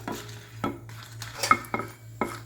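Dried red chillies, including a Kashmiri chilli, frying in sesame oil in a pan, heard as a faint sizzle under a few distinct scraping stirs and clinks of a spoon against the pan.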